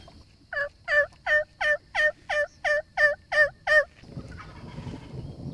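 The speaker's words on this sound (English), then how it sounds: "Those turkeys, look at those turkeys." A wild turkey gobbles in a rapid series of about ten loud, evenly spaced rattling calls, then the sound drops to outdoor rustling.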